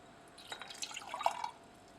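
Filtrate poured into a lab beaker fitted with a stir bar, a faint, brief liquid trickle with a few soft drips and splashes over a quiet background.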